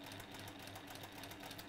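A sewing machine runs steadily, stitching back and forth in a fast, even mechanical whir that stays close and continuous, with no talk.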